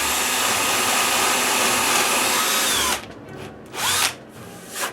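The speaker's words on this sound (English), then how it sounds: "with a brad point bit, I drill a 5/16 hole in the center" A power drill fitted with a brad point bit bores a 5/16 hole into the center of a plywood piece, whining loud and steady for about three seconds before it stops, followed by a few short spin-up bursts.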